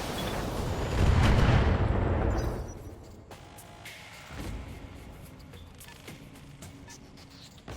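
Heavy mech weapons firing in the Battletech video game: a big rumbling burst of booming fire swells for a couple of seconds, then fades into scattered lighter impacts and low distant rumble.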